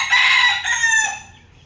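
A white straight-comb rooster crows once, a loud, close, drawn-out call that rises and then fades away over about a second and a half, with no voices around it.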